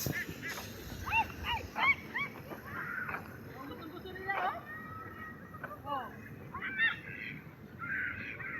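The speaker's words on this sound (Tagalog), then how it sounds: "Doon yung mga pato, oh." Ducks honk and quack repeatedly at a pond outside a mall in the evening, in short calls spread across moderate distance over a low murmur of background crowd noise.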